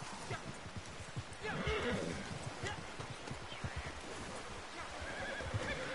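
A horse whinnies in Red Dead Online game audio, with hooves and ambient noise underneath and a voice talking over parts of it.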